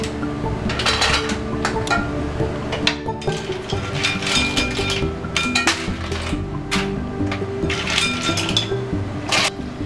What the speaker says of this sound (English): we're going to add in the mussels.